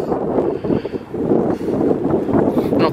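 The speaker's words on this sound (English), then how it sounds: "Now, if the wind was from the southwest, it would be blowing directly at me, but it's blowing more from the west." Cold wind gusts across a pond on a Pine Barrens hike, blowing from the west as a steady, rough rumble against the microphone that swells and dips over a few seconds, with no other distinct sounds.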